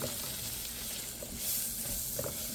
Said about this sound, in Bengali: এই সুজিটা আস্তে আস্তে ভেজে নেব